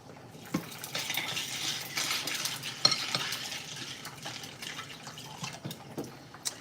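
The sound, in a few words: ice added to papaya salad in a bowl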